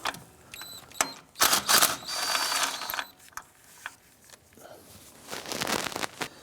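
A ratchet with a 10mm socket works a fuel injector bolt on a 1994-2004 Chevy S10, giving short bursts of dense clicking and metallic rasping close up, separated by quieter knocks and handling noises.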